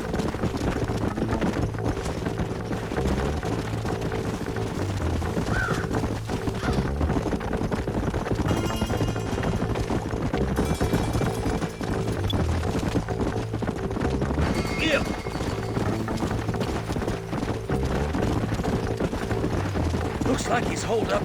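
Horses' hooves clop in a steady, continuous rhythm in the Western game Red Dead Redemption, with the riders near a ridge and an old house, holding an even pace with faint distant sounds mixed in.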